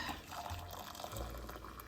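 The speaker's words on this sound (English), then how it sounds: "I'm going to take this and pour it into my nasty cup" Liquid from a cleaning-tablet mix is poured into a stain-prone cup, a soft, continuous watery pour that stays quiet and steady throughout.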